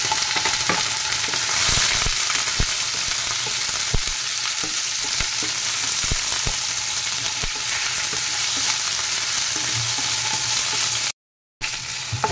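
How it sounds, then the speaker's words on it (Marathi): Paneer fries in a little oil in a pan, giving a dense, continuous hiss and crackle close by with a few sharper pops, briefly cutting out near the end; no speech. "त्या पॅन मध्ये मी आता हे पनीर भाजण्यासाठी घालत आहे।"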